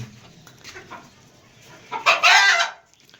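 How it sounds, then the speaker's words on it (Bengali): Chickens cluck softly and sparsely in a small coop, then one bird lets out a louder, longer call near the end, with no talk. "আমাদের মুরগিগুলো ভালোই খাচ্ছে।"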